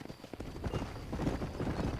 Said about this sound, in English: Sneak attack horse just kind of wandered out of the bushes there.